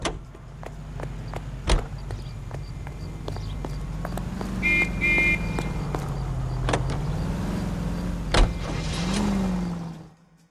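A 1940s-style car in LA Noire drives steadily, its engine droning under occasional clicks and thumps of the ride, then fading out at the end.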